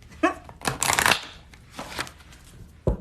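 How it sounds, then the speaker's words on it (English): Tarot cards shuffled by hand in a few quick riffling bursts, crisp and close, with brief pauses between and a sharp tap near the end. "Let's get a nice, good shuffle here."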